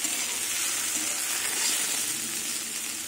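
Eggplant and potato pieces fry uncovered in an open pan, giving a continuous, even, close hiss of sizzling oil with no voices.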